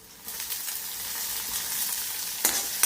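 Chili frying in a pan with garlic and paste for spinach and pea sabzi, a close steady sizzle with light stirring scrapes and a couple of sharper clatters near the end.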